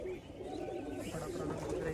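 Pigeons coo softly on a rooftop, a brief murmur of low rolling calls at a quiet level.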